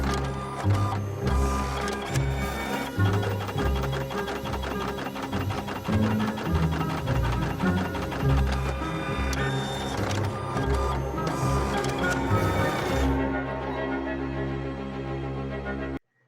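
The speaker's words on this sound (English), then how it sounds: "The printer immediately unblocks." An inkjet printer running after its counter chip was reset, a steady mechanical whirring and rhythmic clattering of the print carriage, continuous and close, stopping abruptly at the end.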